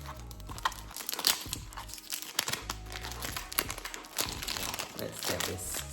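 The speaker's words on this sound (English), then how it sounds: "Let's get this cellophane wrapping off and let's have a look at the beauty inside that awaits." Cellophane wrapping peeled and torn off a fragrance box for Vanilla Planifolia Extrait 21, a steady close crinkling and crackling with a few sharper tearing moments.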